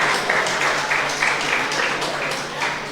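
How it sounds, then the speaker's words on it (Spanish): A church congregation applauds together in a steady, dense wash of clapping that lasts the full few seconds with no talking over it. "Dele un aplauso al que está a la suya"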